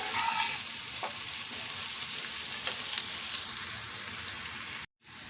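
Finely chopped onions fry steadily on medium heat for egg masala, a dense continuous sizzle with occasional stirring, close and loud, ending in a brief silent break before the frying resumes.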